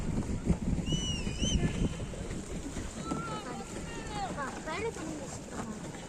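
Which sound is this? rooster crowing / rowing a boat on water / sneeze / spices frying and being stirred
rowing a boat on water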